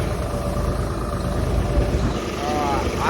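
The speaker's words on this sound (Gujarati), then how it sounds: "તો જોવો આપણું ટ્રેક્ટર હાલે" A Blue Horse 63 tractor engine runs steadily at close range while working a groundnut field in hot sun, a continuous low mechanical drone with someone talking over it.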